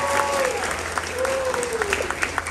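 An audience at a student discussion event gives brief applause, a steady patter of many hands with a voice speaking over it.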